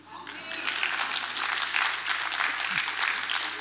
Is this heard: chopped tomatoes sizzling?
no